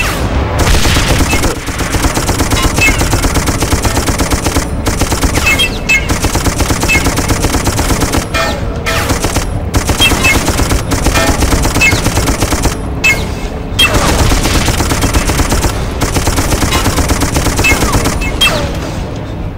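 Sustained machine gun fire from the video game Darkest of Days hammers in loud, dense bursts with brief gaps, layered volleys and occasional booms across a battlefield.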